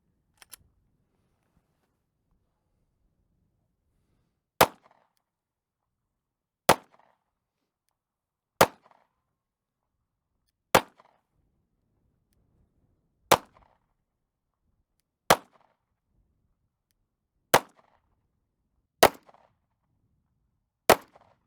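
Pistol shots fired from 5 yards during a one-day pistol class in Dallas, Texas: ten sharp, loud reports spaced about two seconds apart after an initial faint pop, each followed by a brief echo.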